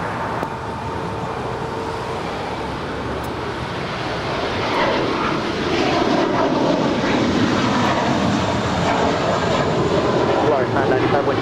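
An airliner's jet engines roar continuously on runway 25 Right at LAX as it takes off, the sound building and staying loud and broad throughout with a distant rumble of traffic beneath.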